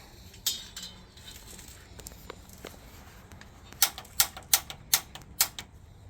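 The igniter on a newly installed water heater clicks sharply in a quick run of about six evenly spaced snaps near the end, after a few scattered clicks, close by with no talk.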